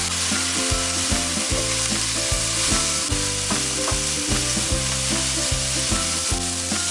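Lean ground pork for mapo tofu sizzles steadily in a hot pan while a utensil breaks it apart, with repeated scraping and tapping in an uneven rhythm and no talking.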